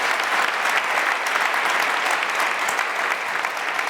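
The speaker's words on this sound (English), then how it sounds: "let's give a round of applause for the panelists." A conference audience gives a full round of applause for a panel of speakers, dense and even clapping that holds steady at close range throughout.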